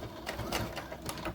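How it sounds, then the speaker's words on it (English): A sewing machine stay stitching elastic, a brief, close, rapid chattering run of needle strokes with slight pulses in speed, no voices over it. "Stay stitch that elastic."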